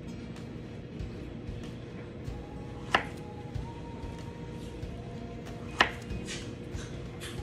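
Two sharp knife cuts sound through a banana plantain on a cutting board, one near three seconds and another near six, set against a low, steady background hum in a home kitchen.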